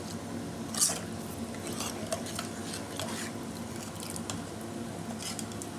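Soft, wet squishing and scraping of a spoon stirring thick chana dal and spinach curry with added water in a pan, with occasional light clinks, continuous and close.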